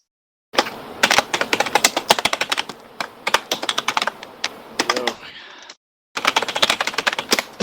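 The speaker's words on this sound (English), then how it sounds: "Damn, Kate, I hear your mic still wants to pick up your typing." Rapid typing on a computer keyboard picked up by a voice-chat mic during an online game session: dense, clattering keystrokes in bursts, loud and close, broken by two brief pauses.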